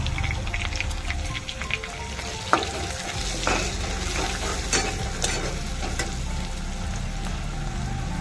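Cumin, grated garlic, green chilli and turmeric sizzle in hot oil with a steady crackling fry, punctuated by a few sharp spatters and stirring scrapes, close and continuous.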